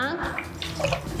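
Water pours briefly into a pot for pachi pulusu with a gurgling rush, while a voice speaks over it.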